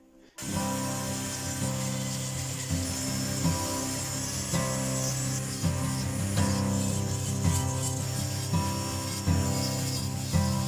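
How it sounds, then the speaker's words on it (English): Wood being hand carved into the detail of a custom steering wheel with a leather center, heard as steady, close scraping and rasping strokes that continue without a break and without talk. "I have most of the rough carving out and some of the finer stuff."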